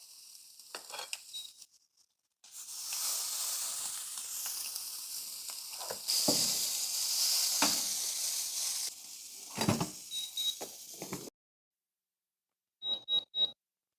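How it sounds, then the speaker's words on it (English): Salmon sizzles loudly on a Todd English Pro-Smart electric grill in a steady hiss with occasional clatters, then stops abruptly, followed by a few short electronic beeps. "Listen to that sizzle."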